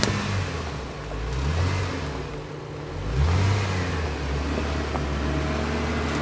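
A car engine hums steadily from inside the vehicle while driving on the Harrison Lake Loop, with low rumbling drone, road noise and a couple of swells in engine pitch, no talking.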